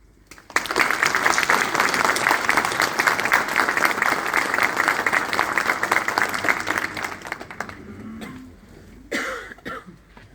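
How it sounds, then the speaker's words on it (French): Audience applause fills a hall during a mayor's New Year address, loud, dense clapping for about eight seconds before fading, then a brief cough or throat clearing near the end. "je pense qu'on peut les applaudir"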